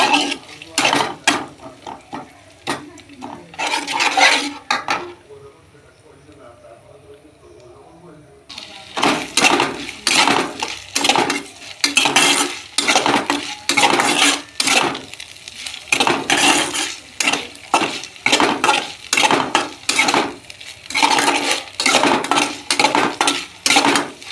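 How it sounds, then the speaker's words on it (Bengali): A spoon scrapes and clatters rhythmically against a pan as a ground ginger and cumin masala for a vegetarian papaya curry is stir-fried. The strokes are loud and steady, with a brief quieter lull partway through. "বেটে রাখা জিরে সমস্ত কিছু দিয়ে মশলাটা ভালো করে কষে নেব"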